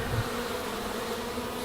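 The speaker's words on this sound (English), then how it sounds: "There's bees in the jar." Bees buzz inside a jar in a hive, a close, loud, steady droning hum that fills the short stretch without pause.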